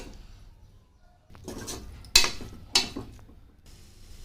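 Chopped mushrooms tipped into a pressure cooker pot with fried masala paste, a few sharp metallic clanks of a spoon against the pot after quieter scraping and rustling, close and alone.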